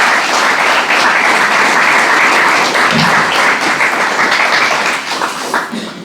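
A congregation at a Spanish-language church sermon breaks into loud, sustained applause that fills the whole stretch, a dense wash of many hands clapping that tapers slightly at the end.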